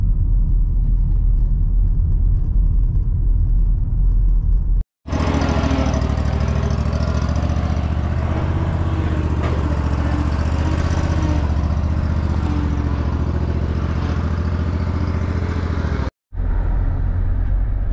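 Steady road rumble inside a moving car, loud engine and tire drone filling the cabin without pause, briefly cut off twice.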